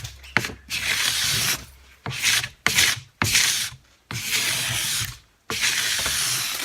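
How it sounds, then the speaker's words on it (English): A sharp scraper rasping ski wax off a ski base in long, steady strokes with brief gaps between passes, close and loud, with no talking. "you take your sharp scraper, you start at the tip"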